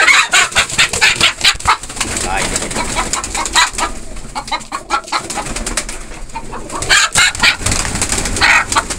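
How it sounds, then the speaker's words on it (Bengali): Large hens cluck repeatedly at close range, their calls overlapping in busy, uneven bursts over a steady background murmur. "হ্যাঁ, মানে বিগ সাইজের মুরগি, মোরগ না"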